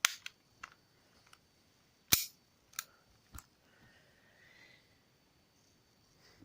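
An airsoft M92 pistol firing, a few sharp, dry snaps spaced apart with faint mechanical clicks between them, close and fairly quiet in an otherwise silent room.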